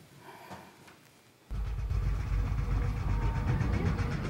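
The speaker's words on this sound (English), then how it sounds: "That's the motor tapping because of the oil and the water's mixing" A car engine with a tapping motor, caused by oil and water mixing, starts abruptly after a quiet moment and runs steadily with a dense, rattling low rumble, close and fairly loud.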